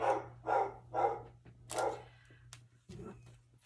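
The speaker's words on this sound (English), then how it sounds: "maybe they hear the neighbors' dogs" Neighbors' dogs barking, a run of four sharp barks at an even pace followed by a couple of softer yips, heard over a low steady hum.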